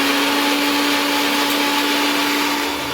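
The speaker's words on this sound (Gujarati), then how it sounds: "મિક્સર" A mixer grinder blends coconut chutney with a loud, continuous, close-up whirring roar that holds steady from start to finish, with no talk.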